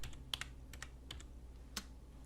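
Quiet typing on a computer keyboard, a handful of light, irregular key clicks spread over a couple of seconds, close and faint with no talking.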